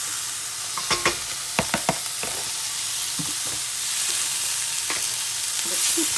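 Tomato and sponge gourd sautéing in a pan over low heat, a loud steady sizzle close by, punctuated by several sharp clicks and taps of the spoon against the pan.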